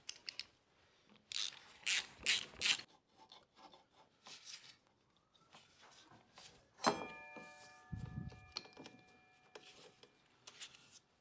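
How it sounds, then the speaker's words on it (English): Bolts are worked loose from a bicycle brake caliper: scraping, rasping tool strokes in short clusters, a sharp metallic clink and a low thump, close and fairly quiet, with no talking. "Then you want to take the bolts off."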